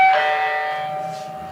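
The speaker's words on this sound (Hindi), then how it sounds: "घंटी बजाई" A doorbell rings at a small house tucked behind a neighbourhood lane, a single bright, sustained chime that fades slowly over about a second and a half, heard alone with no talking.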